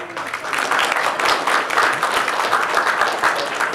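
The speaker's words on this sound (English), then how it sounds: "A big clap for him." A room full of people applauds steadily, the clapping sustained and even from start to finish.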